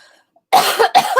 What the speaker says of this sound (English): which caused a cough to occur.